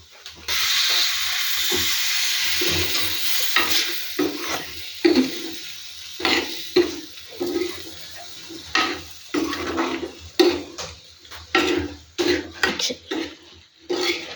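Steady hiss and sizzle as boiling water is added to prawns frying in a hot pan, followed by repeated clanks and scrapes of stirring; no voices.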